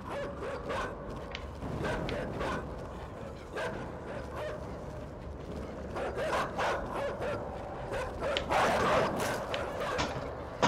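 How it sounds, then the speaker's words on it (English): A dog barks and yips repeatedly in short bursts at moderate distance, with some whimpering, over a steady background rumble and brief mechanical noises. "Fucking dog."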